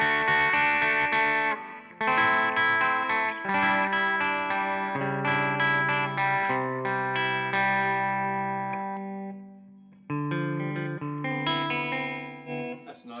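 Clean electric guitar, a PRS SE 245, playing chords and melodic lines with sustained notes and a brief pause near the ten-second mark, close and fairly loud with no talking.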